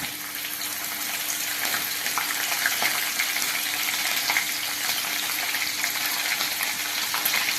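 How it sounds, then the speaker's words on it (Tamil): Green chillies fry in hot oil while cabbage rice is cooked, making a loud, even hiss of sizzling that holds steady throughout with no voices. "இப்போ நல்லா செவந்து எடுத்து பச்சை மிளகாயை போடலாம்."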